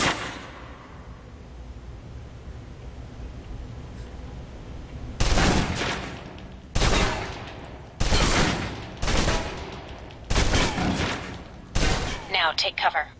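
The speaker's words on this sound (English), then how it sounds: "Now, let's move on to the submachine gun. Now let's empty the clip." A submachine gun empties its magazine in the video game Alpha Protocol, fired in about six loud automatic bursts after a quiet stretch, the last bursts broken into rapid separate shots.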